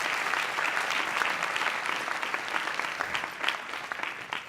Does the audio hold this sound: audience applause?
yes